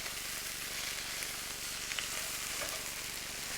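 Soaked rice noodles sizzle in a hot pan for Pad Thai, a dense, steady hiss with a few faint pops, close and fairly loud, with no talking.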